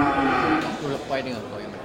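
A cow lows briefly at a livestock market, a short close moo blending into background talk and market noise.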